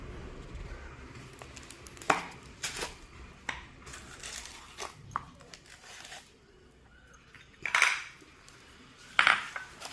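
Green camphor being crushed into powder at home, heard as scattered sharp taps and scraping knocks in an irregular rhythm, fairly quiet and close with pauses between strikes.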